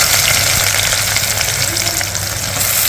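Onion with fennel seeds, cinnamon, cloves and cardamom frying in hot oil for dhaba-style chicken masala, a loud, close, continuous sizzle with faint stirring and no speech.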